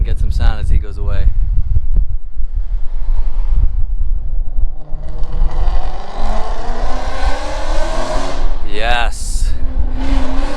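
A Ford Mustang with a 5.0 engine pulls away with a loud, rising engine roar. Wind buffets the microphone, the sound fades as the car leaves, and people can be heard talking.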